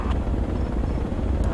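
Helicopter in the military video game Project Reality, a loud, close rotor drone with a low pulsing thrum, steady throughout with no talking.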